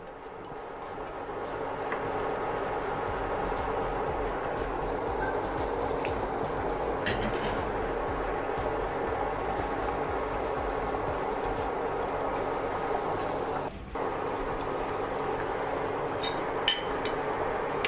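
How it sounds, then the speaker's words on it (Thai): Marinated pork deep-frying in hot oil for crispy pork gives a steady, moderate bubbling hiss that runs on evenly, with a few faint clinks. "ก็ทอดไปเรื่อยๆนะครับก็จะเริ่มได้ลักษณะหมูกรอบ"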